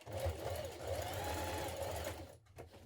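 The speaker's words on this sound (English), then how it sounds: "Now stitch across the ends of your elastic." A sewing machine stitching steadily across the ends of elastic on a summer dress, a close, even mechanical hum and rapid needle patter that continues throughout before easing off at the end.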